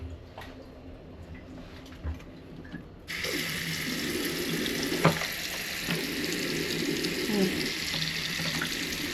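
Water starts gushing abruptly after a few quiet seconds, a steady close hiss of a running shower in a cruise ship interior cabin, with a few faint clinks and bumps.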